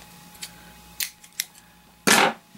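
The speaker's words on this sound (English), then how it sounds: "And then you're going to take your scissors" Scissors cut crochet yarn nearby in a quiet room: a few light clicks and snips, then one longer, louder cut near the end.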